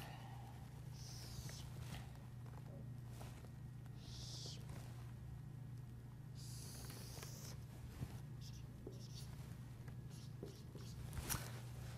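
A pen sketches a graph on paper in short scratchy strokes and bursts, faint and close, over a steady low hum.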